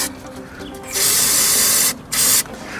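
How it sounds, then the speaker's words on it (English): Brake cleaner sprayed from an aerosol can during car strut work, two loud hissing bursts, the first about a second long and the second shorter, with quieter rubbing around them. "I'm going to use some brake cleaner to have a little clean up here"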